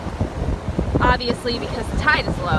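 Wind buffeting a microphone on a beach at low tide, a rough low rumble gusting throughout beneath someone talking nearby.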